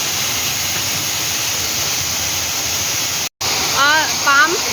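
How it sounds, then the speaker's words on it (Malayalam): A steam sterilizer at an oil palm mill in Kollam, Kerala, boiling palm fruit, gives a loud, steady broadband hiss and roar that cuts out for a moment, with a voice speaking over it near the end. "ആ പാം ഫ്രൂട്ടൊക്കെ ഇതിനകത്തിട്ട് പുഴുങ്ങുകയാണ് ചെയ്യുന്നത്. സ്റ്റീമർ."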